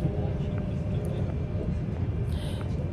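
A jet airliner arriving, heard as a steady, broad engine rumble that holds at a constant level, with no clear change in pitch or distance.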